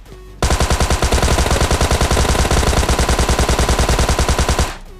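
A Tommy gun fired in PUBG sounds as one long, loud, sustained automatic burst of rapid, evenly spaced shots running for over four seconds, then stopping abruptly.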